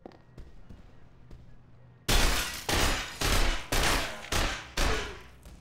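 Loud gunshots ring out in the video game The Ship, fired through a window: a rapid series of about six sharp, evenly spaced blasts after a quieter opening.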